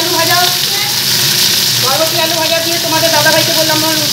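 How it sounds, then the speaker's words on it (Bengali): Long beans and potatoes frying in a pan at home, a steady close sizzle running throughout while a voice talks over it. "এখানে গিয়ে বরবটি আলু ভাজা হচ্ছে"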